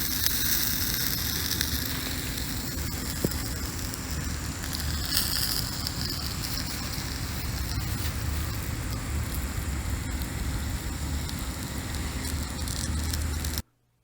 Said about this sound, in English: And just listen to that beautiful sizzle sound.